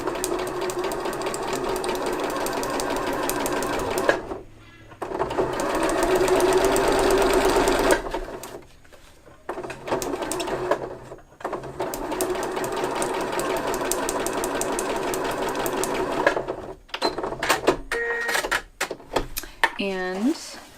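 A sewing machine stitching coffee filter circles into a garland runs in long, loud, close whirring stretches, pausing briefly between runs, with a person talking at moments and some clicking near the end.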